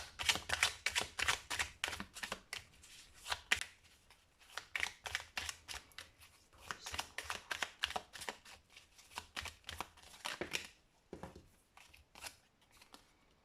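Tarot cards being shuffled and flipped by hand in a tarot reading, a dense run of crisp, close papery riffles and slaps that come in bursts with short pauses, no voices.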